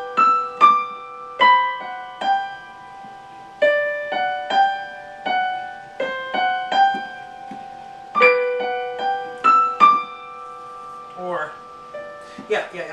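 Solo piano plays the Silent Night melody in a gentle arrangement, clear sustained notes rising and falling in slow phrases with ringing chords, close and alone with no talking.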